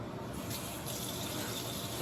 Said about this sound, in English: let's splash it with some water